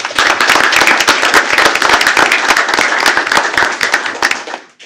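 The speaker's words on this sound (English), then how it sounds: "Let's go ahead and give them a round of applause." Close, loud clapping from an audience at a school board meeting honoring students, a dense rattle of many hands that fades out at the end.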